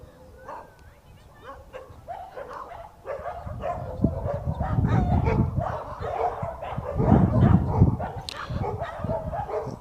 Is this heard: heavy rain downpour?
no